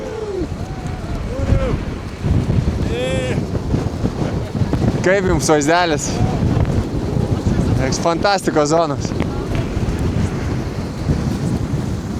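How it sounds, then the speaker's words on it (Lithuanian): Steady roaring Antarctic wind buffets the microphone throughout, with people talking loudly over the gusts. "Kadangi vėjas čia pjausto ir drasko į gabalus"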